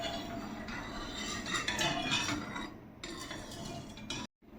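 Coconut water pudding mixture stirred in a pot after the sugar has melted, giving steady scraping and light metallic clinks of a spoon against the pot, close and continuous, with a brief silence near the end.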